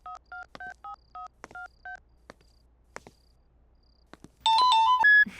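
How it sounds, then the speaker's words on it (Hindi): A phone keypad dials a number with a quick series of short, evenly spaced touch-tone beeps, then a brief pause before a louder ringing tone starts. "सिमरन को फोन करता हूँ"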